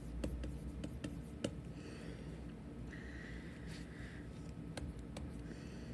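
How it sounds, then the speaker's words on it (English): A pen scratches out a scientific notation template, a series of short, close, dry strokes and ticks in a quiet room, with no voice. "I'm going to write a little template here"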